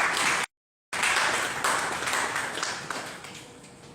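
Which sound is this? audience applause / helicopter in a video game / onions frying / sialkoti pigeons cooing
audience applause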